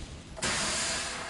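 In Hogwarts Legacy, an Incendio fire spell bursts on with a sudden roaring hiss after a quiet moment, then sustains as a broad rushing flame sound, fairly faint overall.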